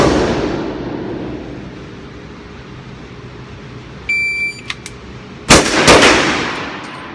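Shots from a Sig Sauer .357 handgun on a range: a loud crack at the start that decays away, then a series of electronic timer beeps, then another sharp burst of shots near the end, with no talking.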